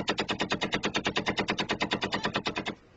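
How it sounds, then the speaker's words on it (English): Vintage Vickers machine gun, a British Army model from 1916, fires a fast steady burst of about twenty evenly spaced loud rounds at an army camp, then stops abruptly with no talk. "some of the Federal Army's equipment is distinctly vintage, like these Vickers machine guns introduced into the British Army in 1916"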